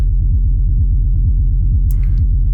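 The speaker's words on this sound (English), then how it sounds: "instead like typical techno rumble bass made with my kick rumble rack" Techno rumble bass built from a kick drum through a rumble rack, a deep pulsing low-end throb repeating in fast even beats, loud and alone, with a brief brighter burst near the end.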